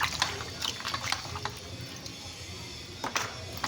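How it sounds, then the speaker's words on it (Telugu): A goat head for Telangana-style curry is rinsed and squeezed by hand in a basin of water, giving steady sloshing and splashing with a few sharper splashes near the end, close by and fairly quiet. "ఈ వాటర్లో అయితే వేసి క్లీన్ చేసుకుంటున్నాను నేను"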